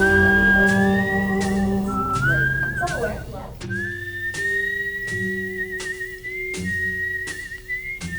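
A person whistles a slow, sustained melody over instrumental music with a steady, regular beat.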